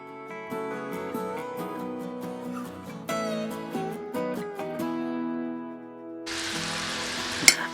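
Gentle music plays, then a loud, hissing sizzle of lokma dough balls deep frying in hot oil bursts in near the end, crackling close by.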